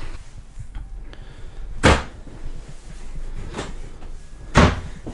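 Soft thumps from a soft-close pots and pans drawer in a 2023 Crusader 260RDD RV kitchen island, with two clearer impacts spaced a few seconds apart and a quieter bump between them.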